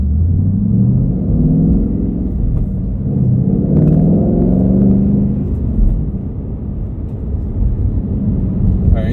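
A 2020 Ford Mustang GT Performance Pack 2 V8 rumbles loudly and revs up and down on a rev-matched downshift, a deep, close engine sound that continues under talking.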